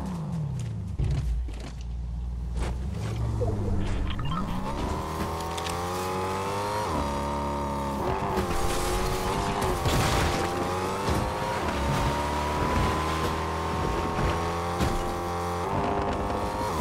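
A car driven in the Fortnite video game: a steady, droning engine whose pitch rises and falls as it revs and shifts, continuous and up close, with no voices.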